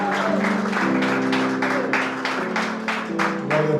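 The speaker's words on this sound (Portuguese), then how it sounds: "Aplauso para Jesus, que ele merece." Congregation applause in a church service, steady rhythmic clapping from many hands with regular bursts, heard under sustained organ or keyboard chords throughout, moderately loud and continuous.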